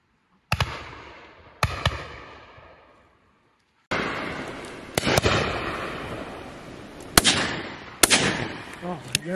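Shotguns fired at high driven pheasants on an Exmoor shoot, a few sharp, loud reports with echoing tails, some close together, heard over outdoor background.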